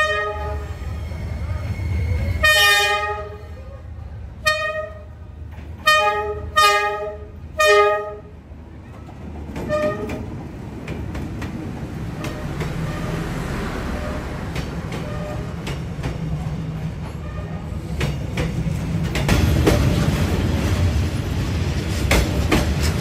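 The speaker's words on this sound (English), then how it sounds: "seeing the train made it all worth it" A train on Hanoi's narrow train street: several loud, close horn blasts at first, then the rolling rumble and clatter of cars passing right beside, growing louder toward the end.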